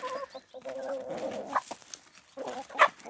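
Backyard chickens clucking in a pecking flock, several birds calling close by in bursts with short pauses, one sharper squawk near the end, no talk.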